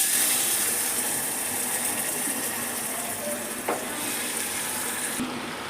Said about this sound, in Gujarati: અહીંયા મેં દૂધીનું શાક વઘારી લીધું છે